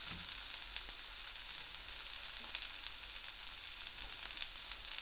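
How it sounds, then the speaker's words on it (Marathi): Sliced capsicum and tomato stir-fry on high flame for Schezwan noodles, making a continuous, fairly quiet sizzle with a few soft scraping ticks and no voices. "हाय फ्लेमवरच या भाज्या आपण परतून घ्यायच्या आहेत"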